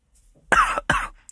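Two quick, close coughs one right after the other, with quiet in between.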